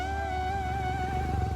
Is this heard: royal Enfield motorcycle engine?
yes